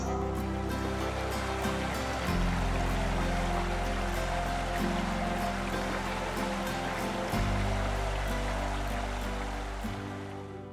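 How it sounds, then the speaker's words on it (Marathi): Continuous rushing, babbling water fills the scene steadily from start to finish, loud and close, with no voices. "या नदीच्या प्रवाहाचा खळखळ आवाज कानावर पडत असतो"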